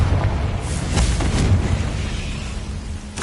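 Confringo blasting spell from a Harry Potter video game, a muffled booming explosion with rumbling low-end and a few sharp bursts, loud and continuous over a noisy background.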